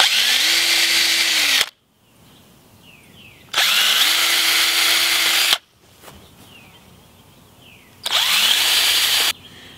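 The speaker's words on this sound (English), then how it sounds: "Now I'm going to pre-drill a hole." A power drill pre-drills a hole for an eye hook in three separate bursts of about two seconds each, spinning up with a rising whine, close by, with quiet pauses between.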